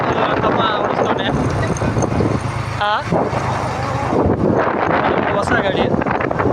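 A new motorbike rides along a good road through the coffee-growing Malnad hills, its steady engine drone buried under loud, constant wind rush against the microphone, with people talking over it.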